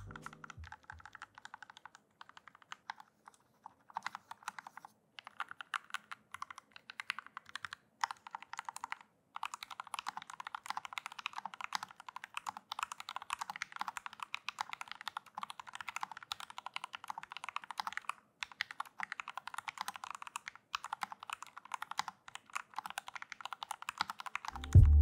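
Steady, rapid typing on a Kemove K68 mechanical keyboard with lubricated switches and stabilizers, a dense run of soft, muted keystrokes continuing for about twenty-five seconds with no talking.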